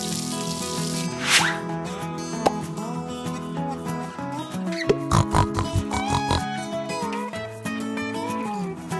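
Cartoon piglet oinking from a kids' farm video game during a washing scene, with a few short squeals and grunts over steady, bright game music and splashy effects.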